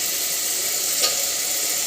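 Potatoes frying in a hot tempering of oil and spices for masala khichdi, a steady close hiss of sizzling oil with no pauses.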